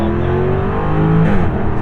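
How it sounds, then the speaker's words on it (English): A 2023 Jaguar F-Type R Coupe engine revs hard under acceleration, a loud, continuous rising roar heard from inside the car with a brief gear-change lift near the end. "in this car, the noise that it makes is very inconsistent."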